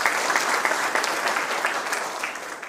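Sustained applause from an audience at a college panel discussion welcoming a panelist, many hands clapping in a dense, even wash that holds steady and close throughout.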